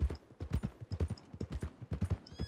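Horse hooves clip-clopping in Red Dead Redemption 2, a brisk steady rhythm of close, distinct hoofbeats on a hard surface, heard alone without talk.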